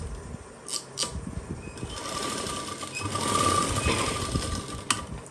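Domestic sewing machine stitching a pocket onto palazzo pants, running a steady continuous whir that builds and grows denser through the middle, with a few brief clicks and thumps near the start and end.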